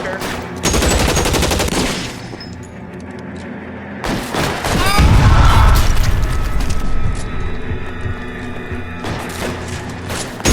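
Loud, dense gunfire fills a shootout in the video game L.A. Noire. Bursts of rapid shots and booms run almost continuously, with mechanical clatter in between and a brief pause before the firing resumes.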